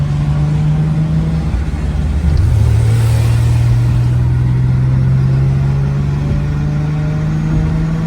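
A car engine drones steadily from inside the cabin, with one brief rev that lifts the pitch before it holds a constant, loud hum.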